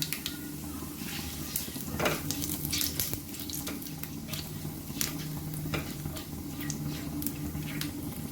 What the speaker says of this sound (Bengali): তেল গরম হয়ে গেছে, এতে আমি জিরে, তেজপাতা দিয়ে দেব